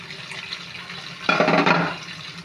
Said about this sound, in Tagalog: Hugas plato.